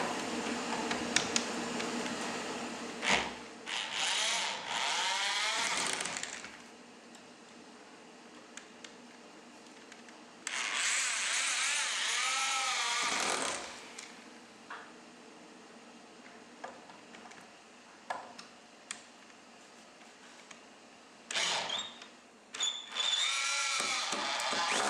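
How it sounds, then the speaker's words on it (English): A power drill with an extension bit drives Torx screws in several loud whirring bursts of a few seconds each, separated by quieter stretches of clicks and handling noise in a garage. "We can just go ahead and get these drilled in."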